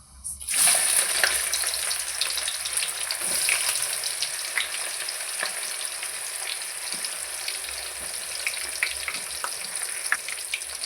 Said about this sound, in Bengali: এবার আমি এতে পেঁয়াজ কুচি দিয়ে দেবো।